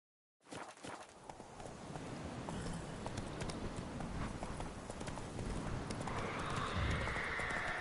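A horse gallops steadily in Witcher 3: Wild Hunt, its hooves clip-clopping in a fast continuous rhythm that rises and holds, with a whinny and rushing wind toward the end.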